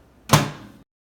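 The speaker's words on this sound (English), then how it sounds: "Close the microwave." One firm thunk comes close and loud as a kitchen microwave door shuts, with a brief decay into silence.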